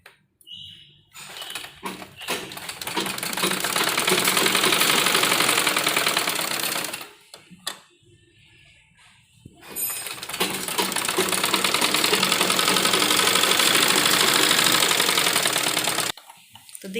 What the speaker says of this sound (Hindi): तो किनारे किनारे पर बिल्कुल सिलाई लगाएंगे